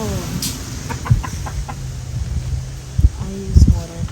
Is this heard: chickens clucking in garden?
yes